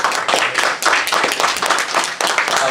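A church congregation clapping during a Korean-English worship service, with loud, close, continuous rhythmic hand claps that carry on steadily without pause.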